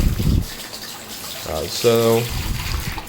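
Tap water pours from a faucet over a cloth mousepad being rinsed, in gushing bursts at the start and again later, interrupted by a brief spoken word.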